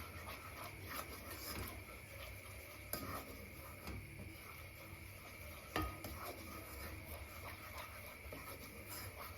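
Flour roasting in a pan for hünkar beğendi, stirred with a spoon in quiet scraping strokes and occasional light clinks against the pan, faint and steady, with no one speaking.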